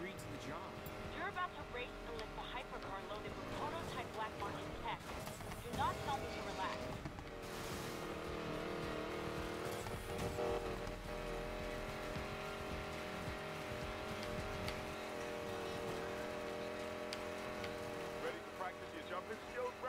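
Hypercar racing in Need for Speed Payback: a loud, steady engine roar runs throughout, layered with tire noise and the din of the race.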